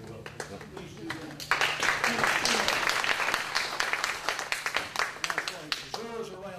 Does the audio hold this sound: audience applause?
yes